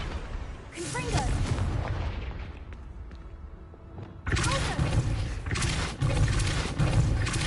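A Confringo fire curse explodes in Hogwarts Legacy, with loud booming blasts and a rumbling roar that drop away briefly, then surge back in heavy bursts, with a voice speaking over the first part.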